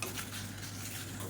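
Ragi and arupatham kuruvai rice roast in a pan with a drop of oil while a spoon stirs them, a soft continuous scraping and rustling with light clinks, fairly close and without talk.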